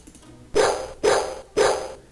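A stray dog barks in a video game, three loud, evenly spaced barks about half a second apart with quiet gaps between them and no voices.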